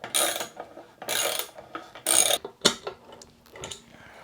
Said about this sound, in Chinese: 先把這個座給鎖上去